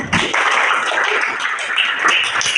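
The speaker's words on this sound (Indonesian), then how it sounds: "Oke, tepuk tangan dulu untuk temannya." Classmates applaud after a presentation in a classroom, a dense burst of clapping from a small group that starts abruptly and continues steadily for a couple of seconds.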